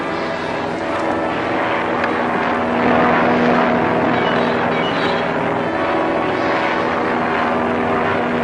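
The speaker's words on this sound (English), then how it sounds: "The plane's out of control." An airplane engine drones loudly and steadily with a propeller buzz, swelling slightly midway, in a 1940 adventure serial scene where the plane is flying out of control.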